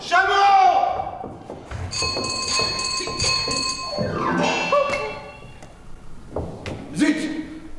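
A doorbell rings in a French stage comedy, bright metallic tones chiming between shouted lines from actors, with a short bell burst near the end.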